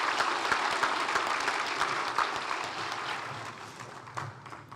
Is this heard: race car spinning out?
no